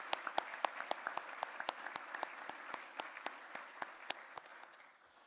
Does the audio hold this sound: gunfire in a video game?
no